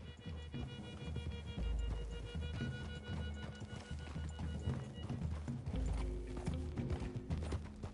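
Horse hooves clip-clop at a steady walking rhythm in the video game Red Dead Redemption 2, close and moderately loud over low background music, with no speech.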